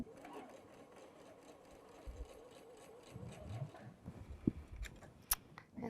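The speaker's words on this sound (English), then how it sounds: "I'm going to get this sewn together now." Sewing machine stitching quilt pieces together, a quiet steady mechanical whirr from close by, with a few sharp clicks and handling knocks near the end.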